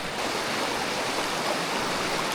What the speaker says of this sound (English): Can't believe how gorgeous this creek is.